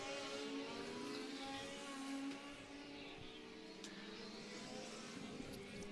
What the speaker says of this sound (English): 2/3 of the way through the legend car practice here.